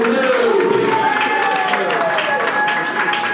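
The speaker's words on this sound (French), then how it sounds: "On applaudit pour deux." Guests at a civil wedding ceremony applaud the couple, a dense, loud wash of crowd clapping that runs continuously while voices call out and talk over it.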